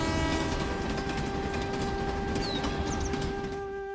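A train rumbles steadily with a sustained horn tone held over the rolling wheel noise throughout, loud and close, with no talk.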